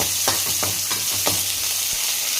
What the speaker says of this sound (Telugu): ఎర్రగడ్డలు అయితే కొంచెం అట్లా వేగిందండి.